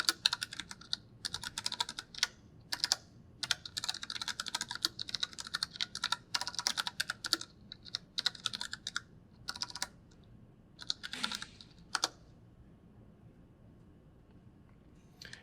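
Rapid clicking of computer keyboard keys comes in bursts with short pauses, close and crisp, without any talking.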